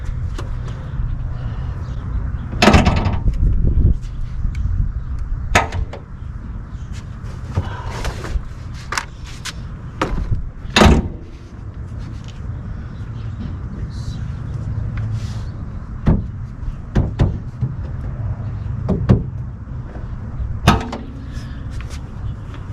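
A van's sliding door is opened and closed repeatedly during a DIY van build, giving a series of sharp rolling clunks and slams spread across a steady low background hum.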